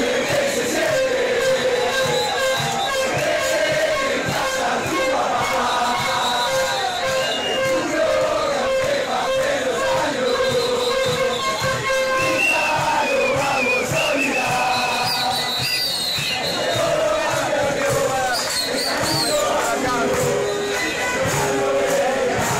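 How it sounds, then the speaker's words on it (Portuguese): Argentine football fans chant a song taunting Brazil, a large crowd singing and yelling together continuously, loud and dense with rising melodic shouts. "E eles inventaram um grito pra provocar o Brasil."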